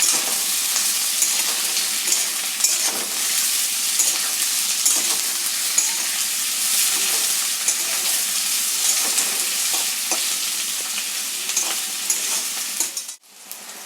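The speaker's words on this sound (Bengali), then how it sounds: "পেঁয়াজগুলো খুব ভালো করে ভাজতে হবে।" Onions frying in a pan for a Bombay duck (lote fish) jhuri, a bright, steady sizzle that carries throughout with occasional scrapes of stirring, ending abruptly with a brief clatter.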